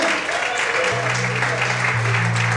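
A church congregation claps steadily and continuously during a morning service, with a low sustained musical tone humming underneath.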